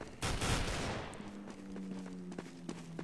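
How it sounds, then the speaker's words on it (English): Gunfire in Counter-Strike: Global Offensive, with a loud opening burst of rapid shots that fades into a lower background hum, followed by a few sharp, isolated cracks. "Laying down suppressive fire."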